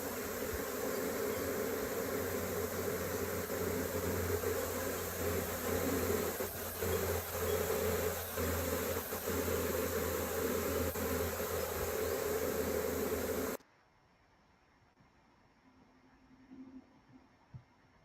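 Honeybees buzz densely around a hive in a loud, continuous close hum for most of the stretch before it cuts abruptly to near quiet with only faint rustling afterward.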